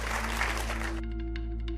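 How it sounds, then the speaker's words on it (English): Audience applause after a podcast conversation: a dense wash of clapping for about a second that cuts off abruptly, leaving a few faint scattered claps over a steady low hum. "please give him a huge round of applause"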